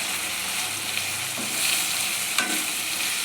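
Chicken liver curry fries in oil in a pan, giving a continuous close sizzle broken by a few stirring scrapes and clicks.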